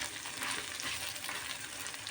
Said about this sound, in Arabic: هنبدأ بقى نقلب الرز مع الشعرية مع لسان العصفور.